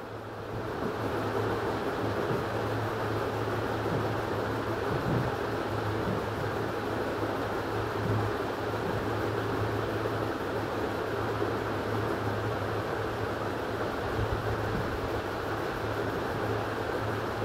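A sewing machine stitches the side seams of a salwar with a steady, continuous motor hum and a low drone that runs unbroken at moderate level, with no talking.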